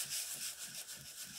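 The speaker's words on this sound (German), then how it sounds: "ich habe ein 240er, das ist ein relativ feines Sandpapier genommen und ich bewege das jetzt in kreisenden Bewegungen und schleife eigentlich hier" Soft rhythmic rubbing of fine 240-grit sandpaper moved in circles over glossy paper, a faint, close scratchy swish repeating about every third of a second, with no talking.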